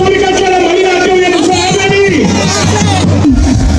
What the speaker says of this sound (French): la foule répète les slogans en boucle